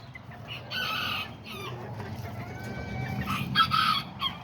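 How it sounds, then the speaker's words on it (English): Chickens cluck and squawk nearby in short, repeated bursts, with a rooster's strained crowing notes mixed in over low background rumble. "I got this little rooster and this little chicken."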